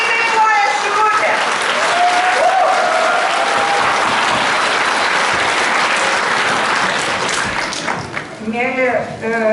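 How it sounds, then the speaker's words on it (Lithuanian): Audience at a cultural workers' celebration gives sustained loud applause, dense clapping that continues for several seconds before tapering as voices talk near the end. "Galima paploti."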